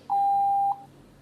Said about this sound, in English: if I stretch it out it'll go down in pitch and sound like this.